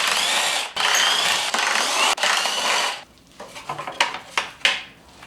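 Screws being driven out of plastic trim on a Polaris RZR: a few seconds of loud continuous whirring from a power driver with short stops, then quieter clicks and rattles of loosened parts, up close with no speech.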